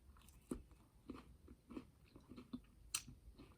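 Close, crisp crunching bites of a Crunch candy bar with intermittent chewing, several sharp crackly bursts spread across a few seconds, no talking.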